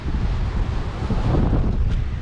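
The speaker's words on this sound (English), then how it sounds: "It's super windy." Strong gusts buffet the microphone on a fishing pier over choppy water, a loud, continuous low rumbling roar with no voices.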